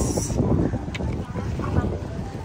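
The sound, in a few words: motorboat ride around Nami Island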